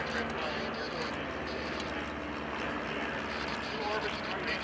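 A World War II L-Bird liaison aircraft in flight at an outdoor airshow, its propeller engine a steady broad drone throughout, with a public-address announcer talking over it.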